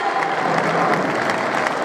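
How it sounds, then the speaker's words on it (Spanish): Dense, steady applause from a crowd at a bullfighting training session in Pamplona, a continuous wash of many hands clapping with no break. "Ese aplauso para esta, este final de Morena, estos últimos combates"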